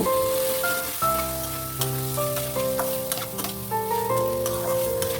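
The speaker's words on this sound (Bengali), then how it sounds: "শুকনো লঙ্কা জিরেকে একটু নাড়াচাড়া করে নিয়ে ধুয়ে রাখা মুগ ডালটা তেলের মধ্যে দিয়ে দেব" Washed mung dal tipped into hot oil with dried red chilli and cumin, a loud continuous sizzle and crackle with stirring scrapes, under a tonal hum of background music.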